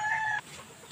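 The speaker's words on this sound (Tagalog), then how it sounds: "tingnan naman natin itong isang manok" A backyard hen gives a short, sharp cluck, one brief tonal call followed by quiet rustling.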